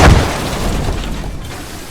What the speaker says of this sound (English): Vehicles will blow up.